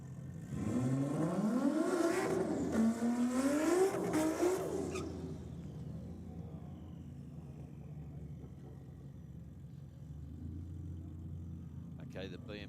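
A BMW drag car launches hard down the strip at Sydney Dragway on a competition night, its engine note climbing through rising revs before fading into the distance, with a faint rumble lingering afterward.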